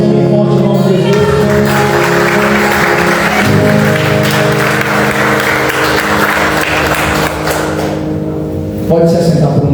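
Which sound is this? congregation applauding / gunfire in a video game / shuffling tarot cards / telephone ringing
congregation applauding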